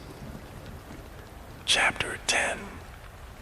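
Steady, soft rain falls as a continuous hiss in the background while a quiet voice whispers briefly close to the microphone.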